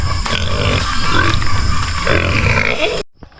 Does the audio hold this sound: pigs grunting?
yes